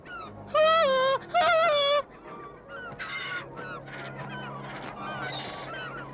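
A seagull in the Smurfs cartoon episode with the pepper pirates gives two loud, drawn-out honking squawks, followed by quieter chirpy cartoon calls and effects over a busy background.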